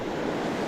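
Creek water rushes steadily in a brief, even broadband wash, close to the microphone with no voices.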